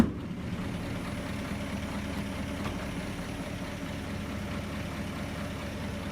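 A 1931 Buick 8-90 Series Roadster's straight-eight engine idles steadily and smoothly, a low even rumble that holds constant throughout with no voices over it.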